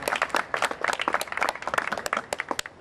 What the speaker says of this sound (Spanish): También recibámoslos con un fuerte aplauso